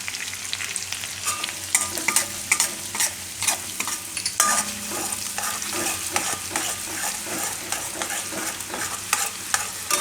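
Garlic and green chili frying in hot butter and oil, a loud, busy sizzle with constant crackling pops and stirring scrapes throughout.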